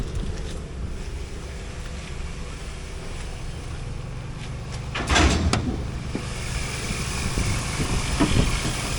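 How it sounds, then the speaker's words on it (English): A 2000 Pontiac Firebird with a 3800 V6 idles steadily at a salvage yard, a low smooth hum under outdoor wind noise, with a couple of brief clunks or a door sound partway through. "let's listen to the motor first"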